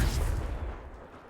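A Confringo fire spell blasts in Hogwarts Legacy, a loud booming burst with a rumbling low-end tail that decays over about a second, with no talking.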